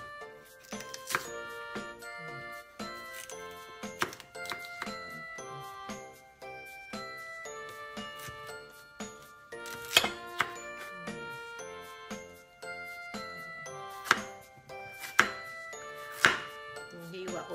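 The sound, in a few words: slicing peeled taro with a knife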